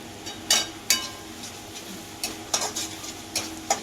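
Turmeric and spices are sautéed and stirred in a pan for paneer bhurji over a low flame, with a spoon scraping and clinking against the pan in sharp irregular strokes over a faint sizzle, close and without talk.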